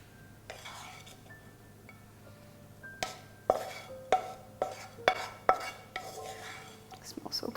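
Peppers, onion and chili mixture stirred in a cooking pot, with a string of sharp clinks and scrapes of a utensil against the pot growing louder and more frequent toward the end, close by over a quiet background.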